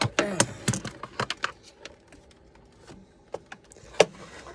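Zip ties handled and fastened while setting up a bioactive enclosure, giving a scatter of sharp clicks and ratcheting snaps close up, clustered at the start with a few isolated ticks later amid quiet room noise.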